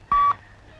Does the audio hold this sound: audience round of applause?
no